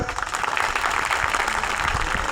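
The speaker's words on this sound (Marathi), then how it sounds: "जोरात टाळ्या वाजवा एकदा" Dense, steady clapping from a crowd at an Ambedkar Jayanti gathering in Jat, a continuous wash of many hands at fairly even loudness for a couple of seconds with no clear voices.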